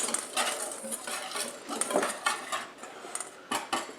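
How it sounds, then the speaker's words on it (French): Utensil stirring oat flour mixture in a bowl for a gluten-free, sugar-free Christmas brownie batter, producing close, uneven scraping and clinking strokes against the bowl with brief sharper knocks. "je vais mélanger ma farine"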